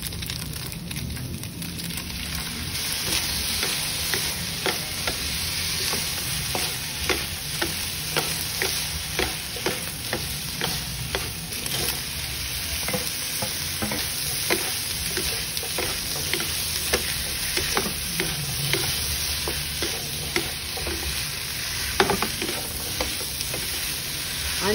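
Crab sticks and sayote stir-frying with soy sauce in a pan: a steady bright sizzle broken by many quick scraping and tapping strokes of a utensil, close and continuous throughout.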